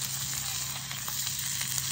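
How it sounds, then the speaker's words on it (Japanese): Meat grilling at a lakeside campsite near Oku-Biwako, a dense continuous sizzle and crackle heard close, steady in level with small fat pops scattered through, no voices. "ゆっくりと肉を焼くと"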